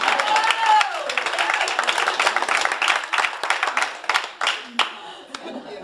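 Applause at a literacy boot camp, starting as a crowd clapping amid voices and a brief sung or exclaimed tone, then thinning out into scattered individual claps near the end.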